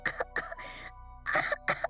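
A video game character coughs in a fit of several harsh, raspy bursts with short pauses between them, close and fairly loud, with no talking over them.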